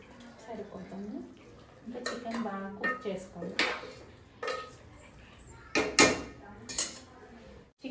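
A ladle scrapes and clinks against a cooking pot as juice is scooped from chicken for chicken dum biryani, with several sharp metallic knocks close by after a voice speaks at the start.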